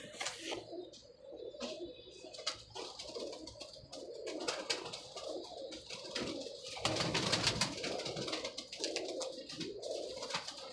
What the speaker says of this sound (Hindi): लो जी, ये भी देखें जी कबूतर।